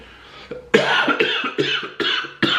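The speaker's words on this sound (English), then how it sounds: "Smoker's cough." A smoker's cough: harsh, raspy coughing in a rapid series of about five hacking bursts, close and loud with no talking.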